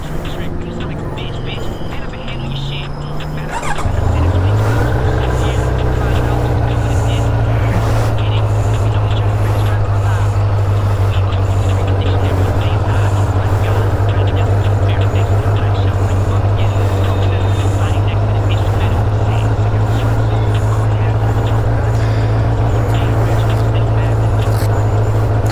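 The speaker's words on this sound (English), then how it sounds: "Let me warm up the engine a little bit." A Triumph Daytona motorcycle engine catches and settles into a steady, loud idle close by, droning continuously after a brief rough start amid outdoor background noise.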